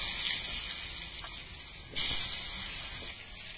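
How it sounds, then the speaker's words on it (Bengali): Potatoes frying with turmeric in hot oil in a wok give a steady, close sizzling hiss that swells briefly partway through and then settles back. "আলুটা ভেজে নেব।"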